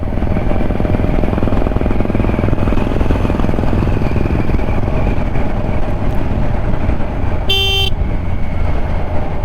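Kawasaki Ninja 1000SX motorcycle ridden on an Indian highway, its engine and wind roar loud and steady throughout, with a brief car horn honking near the end.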